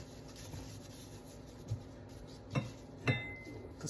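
Spice mix is rubbed onto a salmon fillet for pan searing, with quiet soft rubbing and a few light taps and clinks spaced through a low, faint background.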